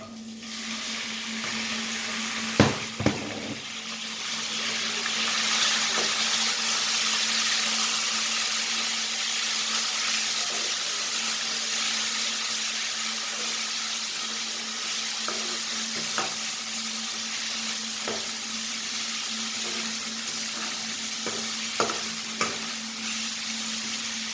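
Chicken fries with garlic in a hot pan for a Chinese-style pasta, giving a steady, close sizzle throughout with a few sharp clicks from stirring and no talking.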